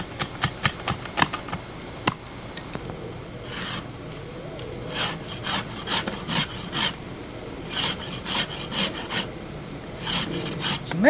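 A rasp files a wooden primitive bow, opening with sharp scattered scrapes and then settling into a steady rhythm of close, gritty rasping strokes.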